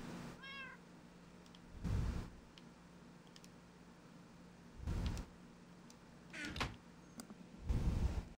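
A cat meowing in Minecraft on Xbox One, Bedrock edition: about five short, quiet meows spaced a second or more apart over a faint, steady background hum.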